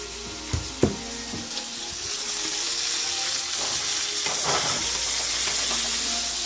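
Butter added to a hot pan with steak sizzles loudly and steadily, with a few sharp clanks and stirring scrapes at the start, then a continuous close hiss of frying.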